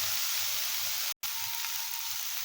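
Sliced onions with a little salt sautéing in a pan for onion chutney: a steady, close hiss of frying with a tiny gap near the middle, no voices.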